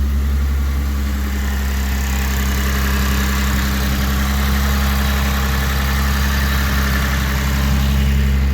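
A 2006 Lexus GS300 idles while warming up after a fuel pump repair, giving a loud, steady, close low engine hum that runs unbroken throughout.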